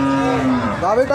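A nine-month pregnant Friesian cow at a rural cattle market gives one loud, long, close moo that rises at the end.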